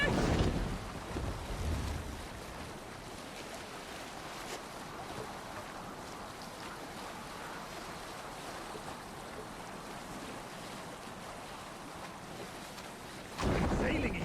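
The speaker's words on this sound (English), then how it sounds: "This wind would fill the sail! Run up the sail!" A sail is raised on a Viking ship in wind in Assassin's Creed Valhalla, with a steady rush of wind and water lapping against the hull, a louder swell of activity at the start and again near the end.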